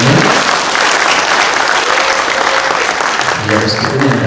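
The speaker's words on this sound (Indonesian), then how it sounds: "Tepuk tangan bagi birokrasinya." Dense audience applause at a public lecture by PROJO in Banyuwangi fills the whole stretch, steady, loud and close, with a brief dip near the end before clapping swells again.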